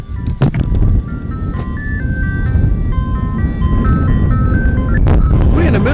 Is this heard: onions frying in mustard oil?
no